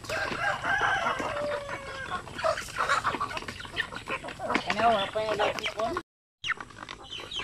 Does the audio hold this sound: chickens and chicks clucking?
yes